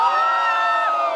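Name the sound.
wedding guests shouting and cheering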